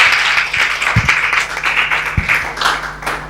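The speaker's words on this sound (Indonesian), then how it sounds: "Beri tepuk tangan dulu untuk Tuhan kita." A church congregation at a GBI Sunday worship service in Batam applauds, with dense, loud clapping filling the hall and a couple of low thumps breaking through.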